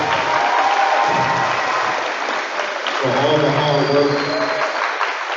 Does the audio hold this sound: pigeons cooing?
no